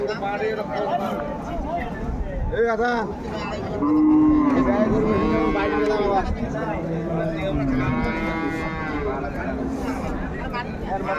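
A milking cow lowing at a Dhaka cattle market, several long, deep moos in a row, loud and close, with people talking and market babble running underneath.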